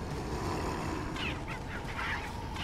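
A chicken in the video game Resident Evil 4 makes a few faint, honking clucks midway, heard under a steady hissing game ambience.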